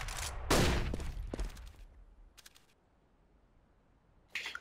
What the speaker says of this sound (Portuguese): Flashbang. Grenade. Throwing flashbang.